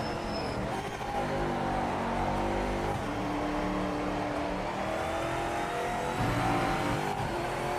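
A GT500 race car engine in Project Motor Racing drones and revs steadily, pitch rising and falling through gear changes as it powers through turns, loud and continuous with no talk.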